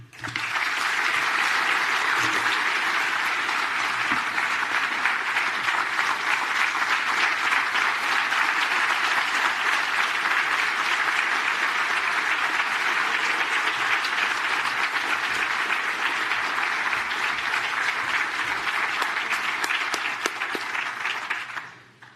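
Sustained applause from an audience at a city State of the City address honoring award winners, dense even clapping that holds steady for about twenty seconds before tapering off at the end.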